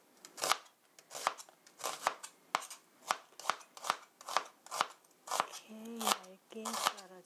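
Knife thinly slicing halved onion into roughly 0.2 cm strips on a cutting board, for a stir-fried pork rice bowl: a steady run of crisp, close chopping strokes, with a voice speaking briefly near the end.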